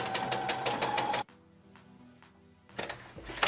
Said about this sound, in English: now we're gonna go right over that with a regular stitch to tack it down